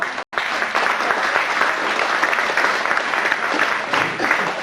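An audience applauding at the Universal Studios Hollywood tour, a sustained wash of clapping hands from a crowd after a brief silence, steady and fairly loud.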